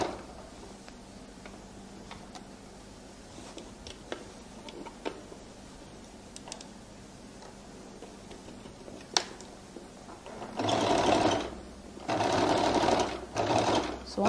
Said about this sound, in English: I roll it open and I now begin to stitch.